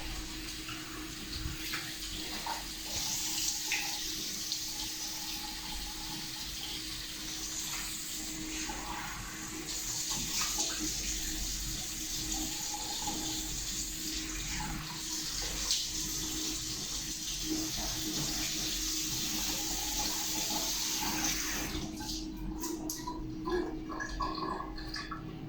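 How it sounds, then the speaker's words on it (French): Lukewarm water runs steadily from a bathroom tap while a face is rinsed, a close, continuous splashing flow with shifting gurgles and splatters as hands cup and move through the stream, with no talk. "Je rince à de l'eau légèrement tiède."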